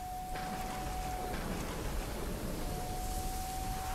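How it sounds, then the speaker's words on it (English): Heavy rain in the pixel-art pirate game Pixel Piracy hisses as a steady, soft, diffuse wash, with a faint thin tone drifting in and out beneath it. "it is really rainy."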